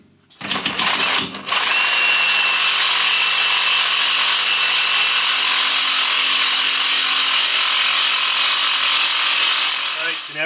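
A power tool cuts through a control arm bushing on a 4th-gen 4Runner or GX470, loud and close, starting with a few short bursts and then a steady, continuous high-pitched grinding whine.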